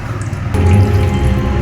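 Water rushes and gurgles as a tank refills, a steady close splashing flow that swells after a brief click.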